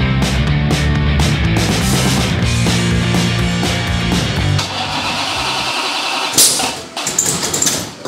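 A 900hp Hemi engine in a 1968 Dodge Charger cranks and fires up loud and close, roaring steadily for several seconds before dropping off, followed by a sharp pop and a rough, uneven idle.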